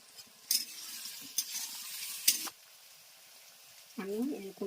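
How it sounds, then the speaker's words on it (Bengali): Potatoes and curry leaves frying in a pan while being stirred, with bursts of sizzle and spatula scraping between quieter gaps, plus a short stretch of voice-like sound near the end. "একটু ভালো করে ভেজে নেব আলুটা"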